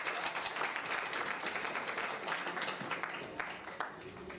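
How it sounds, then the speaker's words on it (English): An audience at a technology conference in Pakistan applauds after a talk, a dense wash of clapping that holds steady and thins slightly toward the end. "We would all like to give you a big round of applause."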